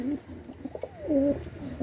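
A pigeon of an imported Pakistani bloodline coos softly nearby, giving a few low, throaty rolling calls against a quiet background.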